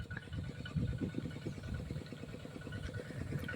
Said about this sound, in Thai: รถไถนา นี่แหละ